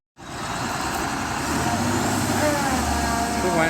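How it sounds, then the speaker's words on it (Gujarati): A truck loaded with crushed gravel, which had been stuck, is driven out. Its engine starts abruptly and then holds a loud, steady roar that swells slightly, with a heavy low rumble underneath. "તો ફાઇનલી ગાડી કાઢવાની કોશિશ થઈ રહી. જોઈ શકો ગાડી હવે નીકળી ગઈ."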